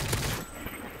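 Burst of gunfire from the video game Modern Warfare 3, a dense crackle of shots strongest in the first half-second, then tapering into quieter scattered pops, fairly loud and up close.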